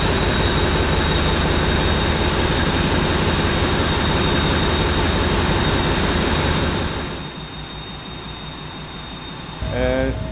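Loud, continuous drone of ferry engine room machinery, a dense steady roar with mechanical hum that drops in level partway through, with faint voices near the end.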